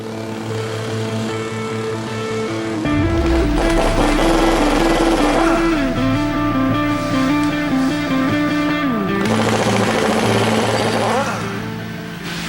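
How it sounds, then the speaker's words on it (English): A chisel hammering concrete buildup off a hydraulic paving vibrator, a loud, steady jackhammer-like pounding with a droning engine underneath, close and continuous throughout. "At this point we're going to chisel the concrete off here and here"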